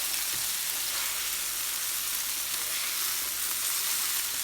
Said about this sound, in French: maintenant on va retourner nos tomates